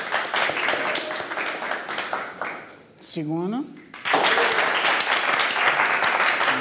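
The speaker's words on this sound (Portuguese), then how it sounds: "Palmas. Palmas." Audience applause during a voting round at a seminar, broad dense clapping that fades briefly while a voice speaks a word, then swells back strong and sustained.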